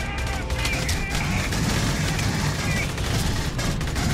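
Gunfire in the video game Aliens: Colonial Marines, a loud steady barrage of rapid shots and blasts filling the whole moment, with voices speaking over the battle.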